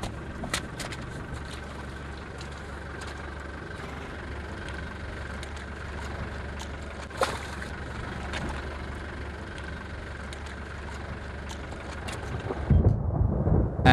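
A continuous heavy downpour in the Serengeti roars with a low rumbling undertone, and a deeper rumble of thunder swells near the end.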